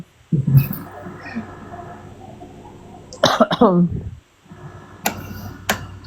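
Someone coughs on a teen's casual livestream, a few sharp, close bursts around the middle with a couple of shorter cough-like hits later, over a low room background.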